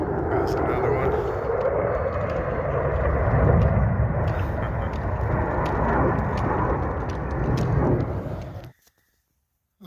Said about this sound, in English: Don't mind the jets.